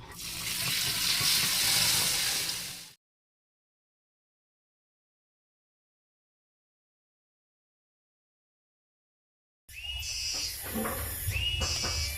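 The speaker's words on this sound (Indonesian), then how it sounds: "Urang tuluy ngasakan burayak." Small burayak fish fry in hot oil with a loud, close sizzle. It runs for a few seconds, cuts to complete silence, then returns with harsher sputtering and clatter near the end.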